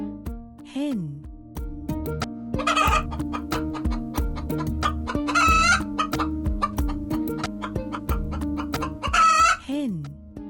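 A hen clucks repeatedly and a rooster crows a few times, the bird calls set against upbeat background music with steady rhythmic beats.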